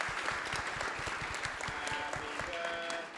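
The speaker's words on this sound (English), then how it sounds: "can we give her a round of applause?" An audience applauds for a birthday at a live event, steady close clapping from a crowd, with a few voices starting to sing toward the end.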